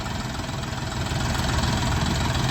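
Lovol 244 mini tractor's diesel engine runs steadily at idle, a continuous close, loud rumble with a fine rhythmic knock and no talk.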